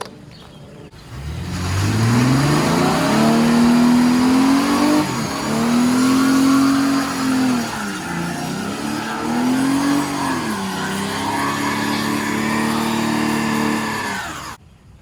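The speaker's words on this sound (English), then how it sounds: "So let's do a burnout and maybe blow the motor up." A Ford Mustang hot rod doing a burnout, its engine revving hard in long sustained howls that rise and fall through several pulls, with a gritty tire-squeal texture over the top before cutting off abruptly at the end.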